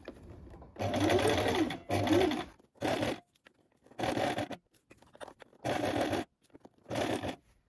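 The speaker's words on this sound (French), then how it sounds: "vous allez coudre à 1 cm du bord et assembler le premier volant à votre buste" A domestic sewing machine stitching a gathered ruffle onto a dress bodice runs in six short, close bursts separated by quiet pauses, each burst a dense mechanical whirr.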